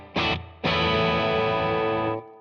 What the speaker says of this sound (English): actually here it is with some reverb